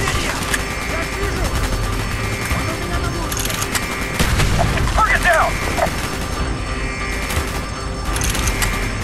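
Dense battlefield gunfire and heavy booms from the Call of Duty Black Ops video game, a sustained loud barrage of shots and explosions with voices talking over it.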